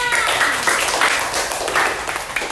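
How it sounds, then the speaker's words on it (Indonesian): Children clap together in a classroom, a dense, steady patter of hands for about two and a half seconds, fairly close and continuous without pause. "Tepuk tangan buat Dekman"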